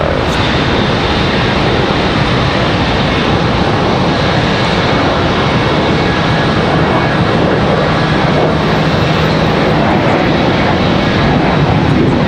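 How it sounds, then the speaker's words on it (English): An American Airlines A321 jet roars on the runway at Charlotte Douglas airport, a loud, steady broadband engine rumble and whine that fills the entire stretch without letup. "Got an American A321 out at the end of the runway ready for departure."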